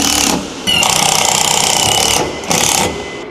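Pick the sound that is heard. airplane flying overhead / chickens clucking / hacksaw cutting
hacksaw cutting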